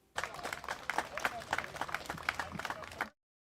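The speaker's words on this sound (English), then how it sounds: "Round of applause for Doc." A short burst of clapping and applause, lively and uneven with a few sharper claps, runs for about three seconds and then cuts off abruptly into silence.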